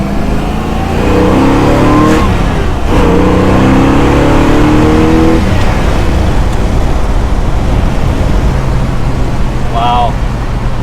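An older Ford Mustang R-code engine revs loudly and steadily, rising and falling in pitch, with a brief higher whine near the end.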